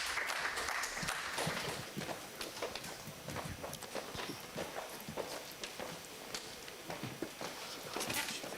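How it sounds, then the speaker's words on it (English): Applause from an audience at an entrepreneurship competition final welcoming a student presenting team, a moderate, uneven patter of clapping that rises at the start and end, somewhat distant and thin. "So let's welcome them with a round of applause"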